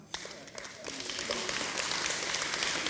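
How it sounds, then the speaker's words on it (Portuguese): An audience at a summer school session breaks into clapping, swelling from near quiet into a steady, moderate round of applause, with a voice speaking briefly at the start. "Palmas para ela."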